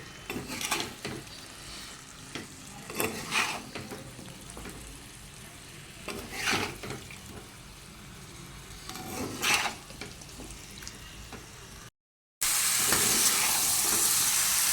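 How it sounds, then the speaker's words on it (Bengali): Food is sautéed in a pan on a home stove, with stirring scrapes coming in repeated bursts over a steady sizzle. Near the end there is a brief dropout, then a loud, bright hiss. "ভালো করে কষিয়ে নিচ্ছি।"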